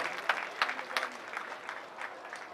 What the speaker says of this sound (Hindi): तो उनके लिए भी जोरदार तालियां होनी चाहिए।